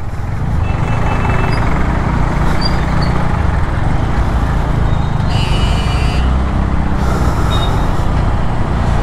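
Traffic roars steadily along a busy road that links to a highway. The loud, continuous rumble of passing vehicles fills the scene, with faint high tones drifting through it.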